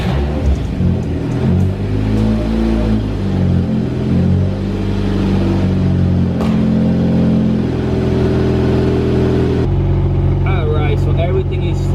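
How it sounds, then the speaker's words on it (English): A Nissan Sentra B13 engine cranks and starts after filler neck work, then settles into a steady, loud idle with a shifting low hum and occasional revs. "start up the car and inspect for leaks"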